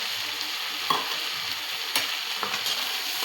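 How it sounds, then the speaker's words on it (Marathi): Okra sautéed with red chilli powder, garam masala, kitchen king and sabzi masala in a pan, a continuous soft hiss with a few light taps and scrapes of a stirring spoon, no voices. "आणि परतून घेऊया"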